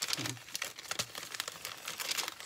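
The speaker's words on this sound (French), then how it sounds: "pour que ça déchire à l'endroit où vous voulez que ça déchire" Paper is torn by hand for a collage, giving close, crisp ripping and crinkling bursts in short irregular pulls with no talking.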